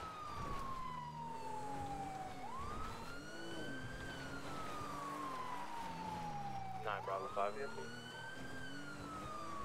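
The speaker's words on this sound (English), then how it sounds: "This freaking police siren is louder than me listening to them." A police siren in GTA roleplay wails in long rising and falling sweeps, loud and continuous, with a brief burst of other noise partway through.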